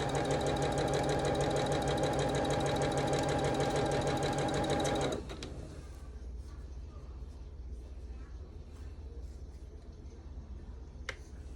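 A sewing machine stitching scrap quilt pieces for an Irish chain block, running in a steady, rapid, close-up whir for about five seconds before stopping, leaving a quiet room with a few faint clicks.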